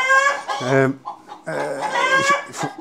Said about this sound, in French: il y en a une qui pond là-bas, qui n'est pas contente. Puis là-bas, tu as le coq qui répond.